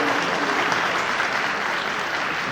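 An audience at a convention in Ravindra Bharathi applauds, dense continuous clapping from a large crowd, loud and even throughout.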